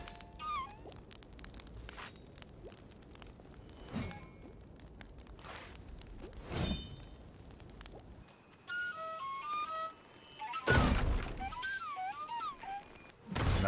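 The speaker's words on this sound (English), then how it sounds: "Nothing like the feel of an axe smashing through tough wood" A heavy two-handed axe smashes through a wooden barricade in Tails of Iron, the game's crashing wood impacts arriving as a few separate loud thuds amid quieter game sounds and music, with no talking.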